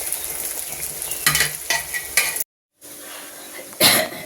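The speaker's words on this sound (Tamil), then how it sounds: "கொதிக்கட்டும் கொதிக்கட்டும் மீன் நல்லா கொதிக்குதுங்க" Fish curry bubbles and sizzles steadily in a pot, with occasional scrapes and clinks of a utensil and a brief pause near the middle.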